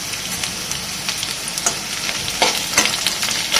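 Whole garam masala and cumin seeds sizzling in hot oil, a loud close crackle with bursts of spitting pops and stirring scrapes throughout, without talk.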